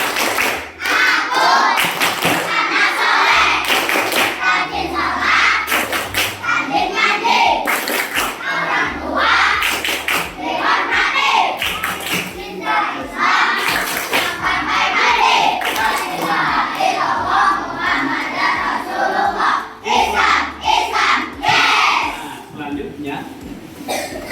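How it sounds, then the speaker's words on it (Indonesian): A classroom of children doing the rhythmic 'tepuk anak soleh' clapping chant, with sharp patterned claps in time with a loud group chant, led by a teacher's voice, continuing for over twenty seconds. "mari kita tepuk terlebih dahulu agar kalian konsentrasi, agar kalian semangat"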